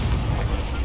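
A Confringo spell explosion in Hogwarts Legacy, heard as a single dense, booming burst of rumbling low-end noise lasting under a second.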